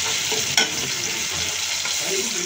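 Spice paste frying in a pan with browned onions for a Bengali tangra fish curry, a steady broadband sizzle with stirring scrapes, one sharp clink near the start, no voices.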